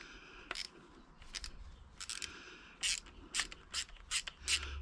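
A part being screwed by hand into a Yagi antenna during assembly, producing repeated short ratcheting scrapes and clicks in irregular bursts, close and fairly quiet.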